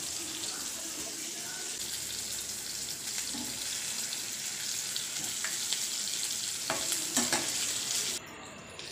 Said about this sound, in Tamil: ஸோ நான் திருப்பி விட்டுட்டு அந்த பக்கமாக வேக வைக்க போகிறேன்.